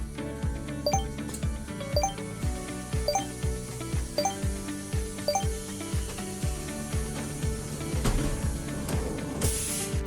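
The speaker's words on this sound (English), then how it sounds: "The robot automatically picks up the workpiece and prepares it for machining." An SZGH robot loads a workpiece into a CNC milling machine, giving a steady run of rhythmic clicking, ratcheting mechanical pulses over a constant machine hum, with a brief hiss near the end.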